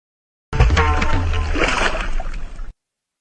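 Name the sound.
water poured over a deity idol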